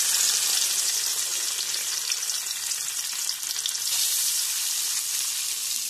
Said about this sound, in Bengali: সাদা তেল গরম করা হয়ে গেছে, এবার আমি টুকরো করে কেটে রাখা পনিরগুলো দিয়ে দেবো আস্তে আস্তে।